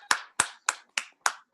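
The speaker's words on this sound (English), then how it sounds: "let's go ahead and give a round of applause for Natalie on tech." Six sharp, evenly spaced hand claps, close and fairly loud, from a single person at a stay-home comedy show, with no other sound between them.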